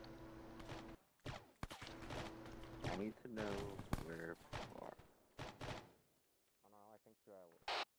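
Video game gunfire in Cerberus Company: repeated sharp shots and bursts crackle loudly around a steady hum, mixed with overlapping voices talking, then tapering into quieter tonal sounds.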